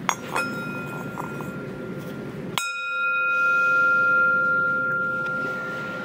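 Two bell strikes: the first bell's ringing tone is cut off, then a second strike starts a fresh bright ring that holds and slowly decays, close and loud with no talk.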